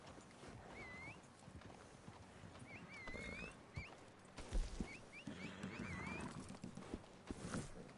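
A horse in Red Dead Redemption 2 Online plods along with faint, steady hoof clip-clops, a few neighs or whinnies and light ambient outdoor noise, with no talking.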